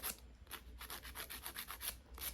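A nail file rasps in quick repeated strokes as an artificial fingernail is reshaped during a fill-in, close and fairly quiet, with no talking.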